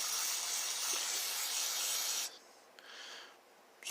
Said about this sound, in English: Spray all that out.